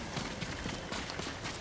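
Horse hooves galloping in Ghost of Tsushima, a quick run of clip-clop beats over a busy game background, brief and fairly quiet.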